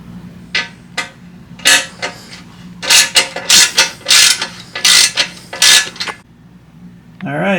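A socket ratchet clicks in quick bursts while backing out 10mm skid plate bolts on a V-Strom 800DE motorcycle, loud and close, rapid pawl clicking in repeated runs separated by brief pauses.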